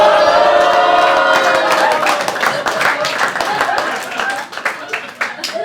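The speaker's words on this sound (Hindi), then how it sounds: "सिर्फ लड़कियों ने ताली बजाई है।" Applause from a stand-up comedy audience, with only the women in the crowd clapping. It starts loud and fills the room, then thins out into scattered claps as a voice talks over it.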